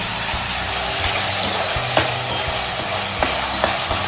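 Spices for a tempering crackle and sizzle in hot oil while masoor pulao is made, a steady frying hiss with scattered pops and spoon taps against the pot, close and unaccompanied.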